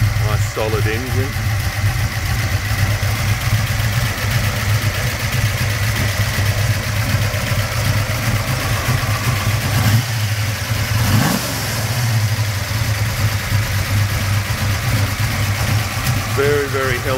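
A 1971 Ford XY GT Falcon replica, fitted with a yellow top coil, a big Holley carburettor and Pacemaker extractors, idles with a steady, loud, close rumble. Someone talks over it throughout.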